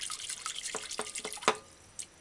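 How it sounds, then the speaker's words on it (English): Water splashes and drips as a thyme sprig is rinsed by hand in a bowl of water while preparing a vegan canned ackee stew, with several short wet splashes and drips close up, no talking. "wash the thyme stick properly"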